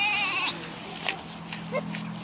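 Sheep and goats bleating while being fed at a petting farm, a couple of short nearby bleats among background voices of people talking.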